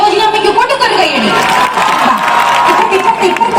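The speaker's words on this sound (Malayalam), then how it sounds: "സരോജിനി അമ്മയ്ക്ക് കൊണ്ടുക്കൊരു കൈയടി." A celebrity vlog event crowd claps, cheers and whoops for an elderly woman, a loud close burst of mixed applause and excited shouting with voices talking over it.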